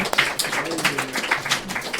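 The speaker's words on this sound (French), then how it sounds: "Voilà, merci à la chanteuse, on peut l'applaudir" Audience applauding a singer after a comic Christmas-themed performance, a short burst of scattered clapping with distinct hand claps, moderately close and fairly brisk, no talk over it.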